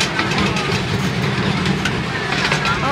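Amusement park train ride at Hersheypark during the Christmas Candylane event, heard as a steady low rumble of the moving train running continuously with no clear breaks.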